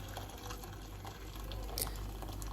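Boiling water pours into a soup pot holding cut potato, carrot and onion, a soft continuous stream of liquid heard close up and fairly quiet.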